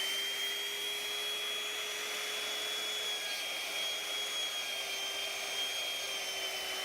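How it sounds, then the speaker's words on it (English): A router mounted in a jig flattens a wooden cutting board, producing a steady high-pitched motor whine with a constant hiss of cutting, even and unbroken at moderate distance. "So I set it up in the router jig and got to work flattening that out."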